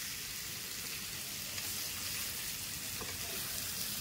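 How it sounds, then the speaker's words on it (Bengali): Marinated paneer dry roasting in a pan over a medium gas flame gives a steady, close, even sizzle and crackle that runs the whole time without voices. "এবার আমি গ্যাস জ্বালিয়ে নিয়েছি, তাতে আমি এই যে ম্যারিনেট করা পনিরগুলোকে একটু রোস্ট করে নেব।"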